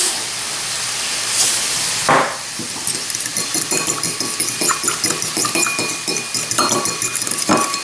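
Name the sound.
mixing sauce of olive oil, salt and pepper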